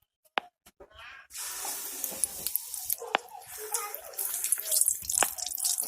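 Chicken pakoda pieces dipped in besan batter hiss and sizzle in hot oil, a steady bubbling fry with sharp crackles and pops, close and fairly loud after a quiet start.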